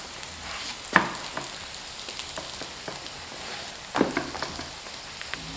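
A leek pancake pan-frying after being flipped gives a continuous soft sizzle and crackle, with a couple of sharper clicks from a spatula or utensil against the pan.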